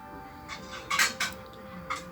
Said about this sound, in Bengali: এখন এগুলোকে হালকা একটু নাড়িয়ে নিচ্ছি।